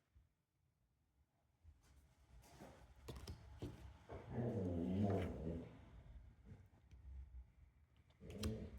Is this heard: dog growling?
yes